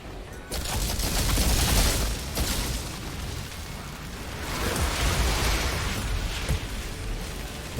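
Heavy gunfire and blasts in the shooter game Outriders, loud continuous bursts and booming impacts filling the whole stretch, with a brief quieter lull midway.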